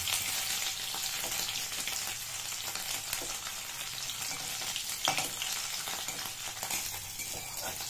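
Chhana (cottage cheese) fries in hot oil in a pan, giving a dense, continuous crackling sizzle at close range with a few soft stirring knocks; no one speaks.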